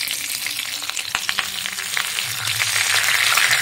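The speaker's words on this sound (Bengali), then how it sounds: "দিয়ে এবার আমি যে পাতাগুলো আছে পরপর এই পাতাগুলো এই তেলের ওপর দিয়ে সাজিয়ে দেবো" Bottle gourd leaves hit hot oil in a wok, setting off a close, loud crackling sizzle that swells and grows more intense as frying continues.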